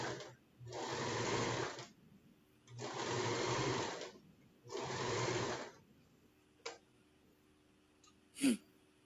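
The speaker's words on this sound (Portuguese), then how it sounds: "ainda vou devagar aqui na costura" A sewing machine stitches quilt strips in three slow, steady bursts with short pauses between them, close and clear, followed by a few faint clicks and handling noises.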